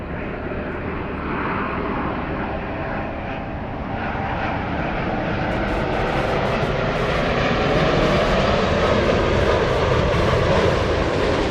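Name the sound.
airliner flying in from Narita to LAX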